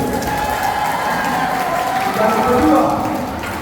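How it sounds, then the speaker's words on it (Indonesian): An audience claps steadily at a children's Sunday school Bible quiz final, dense continuous applause mixed with crowd murmur and a voice over it. "Tepuk dulu."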